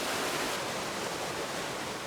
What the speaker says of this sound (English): It's just neat because you just hear the water